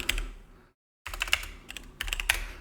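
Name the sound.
typing on a computer keyboard to note a giveaway winner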